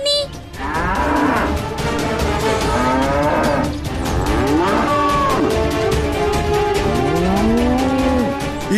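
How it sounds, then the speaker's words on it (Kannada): A village herd of cows moos loudly and continuously, many overlapping drawn-out calls rising and falling in pitch over a dense rumbling background, with no speech. "ಇದು ನಮ್ಮ ಹಸುಗಳೆಲ್ಲ ಕೂಗ್ತಿರೋ ಸದ್ದು."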